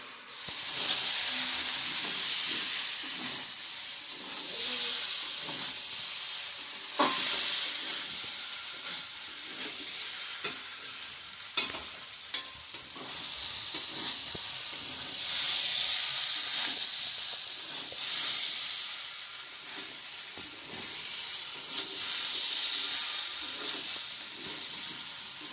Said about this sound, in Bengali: আমার কাঁঠালটা কষানো হয়ে গেছে ভাজা ভাজা।